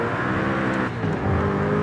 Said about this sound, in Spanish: Acelerar en bajas este coche es una auténtica salvajada.